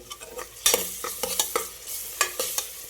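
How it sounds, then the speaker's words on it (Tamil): Ginger garlic paste sautéing in a hot pan makes a soft sizzle broken by repeated scraping strokes of a spatula, a quick irregular rhythm heard close and alone. "இஞ்சி பூண்டு பேஸ்ட் கொட்டிக்கலாம் இஞ்சி பூண்டு மெயினாக வாசம் போகிற அளவுக்கு வணங்கணும்"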